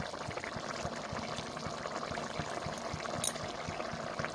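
Curry seasoned with garam masala bubbles in a pot, a steady simmer with continuous soft popping and gurgling close by, no voices present.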